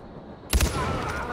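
Gunfire from a weapon in the video game Far Cry 4: a sudden burst of a few rapid shots fading into a sustained noisy wash, heard without speech.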